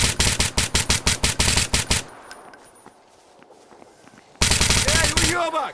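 Rapid automatic gunfire in the video game Stalker GAMMA rattles out in a fast burst of about a dozen loud shots, pauses into quiet ambience with scattered faint sounds, then erupts again into dense firing.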